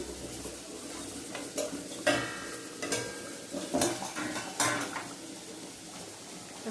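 Mutton frying in a pot while being stirred, with a spoon scraping and clanking against the metal at irregular intervals over a steady low sizzle, fairly close and moderately loud.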